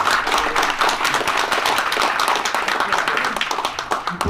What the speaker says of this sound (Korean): 우리 저 큰 박수로 한번 우리 장기표 고모님.